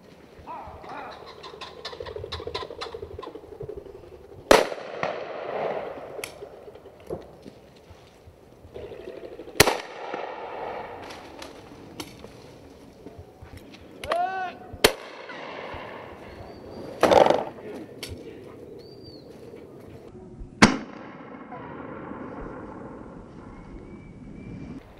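Shotguns fire at a British driven game shoot: several sharp, loud cracks spread apart, some in quick left-and-right pairs, among rustling, dog movement and faint background voices.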